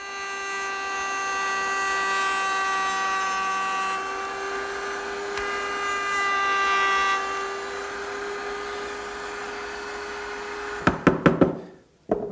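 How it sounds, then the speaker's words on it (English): A router table with a mortising bit cuts a bead from wood, with a steady high motor whine for about ten seconds, then a burst of sharp clattering knocks as the cut ends and the machine winds down. "I'll remove that using the mortising bit in my router table"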